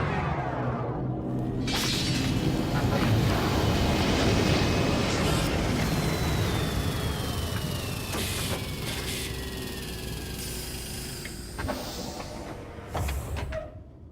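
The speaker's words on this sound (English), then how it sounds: "And let's shut down the engine." An adaptive spaceship engine built in FMOD powers down, its loud dense roar slowly fading while a long falling whine sweeps downward, with scattered glitchy clicks and bursts near the close.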